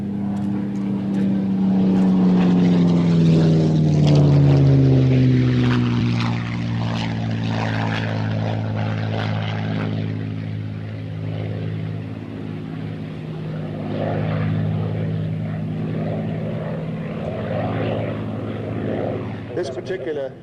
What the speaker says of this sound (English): you should get that gorgeous, real nice sound of these Merlins going across either your headphones or your speakers